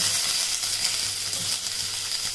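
Onions frying in hot oil with cinnamon, bay leaf and kalpasi, a loud, steady hiss and crackle close by with no pauses.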